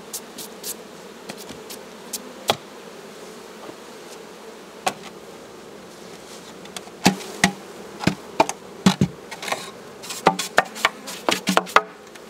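Buckfast honeybees buzz around an opened hive as boxes are taken off, a steady, low hum broken by a run of sharp knocks and taps that grow denser toward the end.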